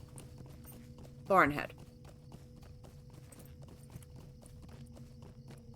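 Horse hooves in the online game Lord of the Rings Online clop in a steady walking rhythm throughout, moderately close, while a horse whinnies briefly and someone speaks a single word.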